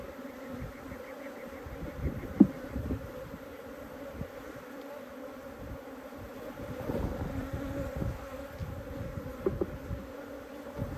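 Honey bees swarm and buzz around an opened hive of Africanized bees receiving a European queen, a steady dense drone filling the whole stretch with brief louder swells as insects pass close.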